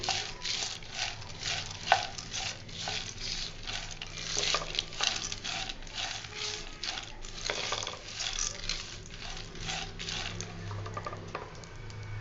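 Peanuts stirred and fried in oil for masala peanuts, a busy patter of rattling, clicking nuts against the pan over a low steady sizzle, continuous and close throughout.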